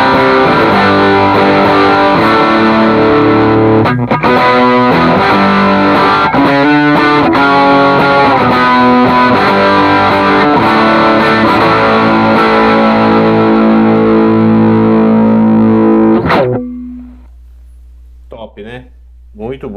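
An electric guitar runs through a Morning Glory drive on a Line 6 Helix HX Stomp, playing crunchy, sustained chords and riffs loudly for about sixteen seconds. A few faint picked notes follow after it cuts off.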